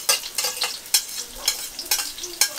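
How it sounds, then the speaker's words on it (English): Onion sizzling in a pan while being stirred, with repeated scraping strokes over a steady bright fry, close by and without talk. "Alright, the onion is in."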